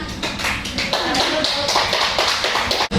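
A class of students in a religious education lesson claps together, a loud, close burst of many hands that runs for about three seconds with a brief break near the end.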